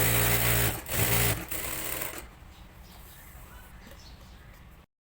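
Sewing machine stitching along both edges of a fabric strip for a shirt neckline, running loud and steady for about two seconds with a brief pause, then stopping into quiet room noise.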